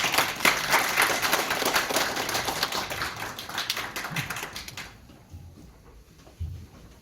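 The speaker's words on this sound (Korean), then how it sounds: "큰 박수 부탁드립니다." Audience applause at a brand launch event for a messaging service, a dense burst of clapping that fills the room for about five seconds, then stops abruptly, leaving a quiet hall with a few faint knocks.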